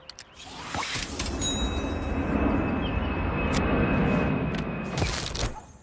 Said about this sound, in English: What's with the plane noises?